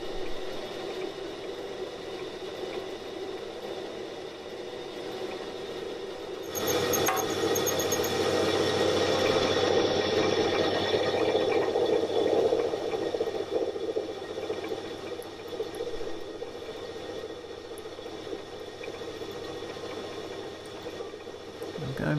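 A steady, continuous whirring drill grinds slowly through a TIG tungsten stickout guide block close by, a constant drone that grows louder partway through and holds for a long stretch.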